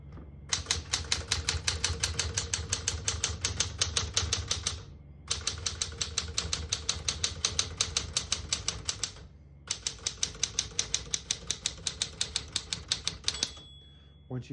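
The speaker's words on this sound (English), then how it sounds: "We're going to keep it on single and finish typing." Rapid, even keystrokes clack on a 1967 Smith-Corona Super Sterling portable manual typewriter in three long bursts separated by short pauses, ending with a bell ding and carriage movement.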